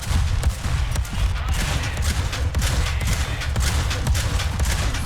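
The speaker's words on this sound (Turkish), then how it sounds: "Bu 20 mermiyi de aralıksız bir şekilde sıkabiliyorsun bam bam bam" The PT-76-57 tank's autocannon in War Thunder fires a steady, continuous burst of rapid, punchy shots, loud and close over rumbling engine noise.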